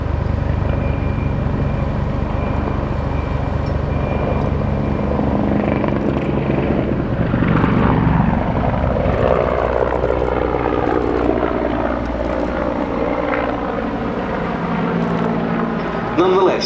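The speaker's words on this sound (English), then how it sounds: "this is still a very, very potent attack helicopter" A Czech Air Force Mi-24 Hind attack helicopter flies a display at the Battle of Britain Airshow, its loud rotor thump and turbine whine sweeping past with a shifting pitch, under an announcer's voice.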